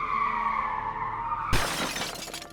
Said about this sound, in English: Big Roy smashing through Jim Bob's buggy